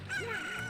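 A cucco, the rooster-like bird in The Legend of Zelda: Ocarina of Time, lets out a single short, bright crow with a rising and falling squawk, loud and close, heard alone.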